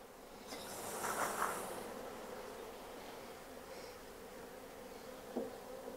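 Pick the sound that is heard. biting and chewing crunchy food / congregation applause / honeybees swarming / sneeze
honeybees swarming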